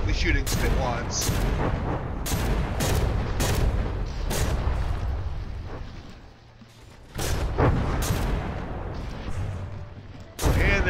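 Warship guns fire during a naval battle in From the Depths, a series of loud, booming shots in irregular succession over a rumbling background, while a voice talks throughout.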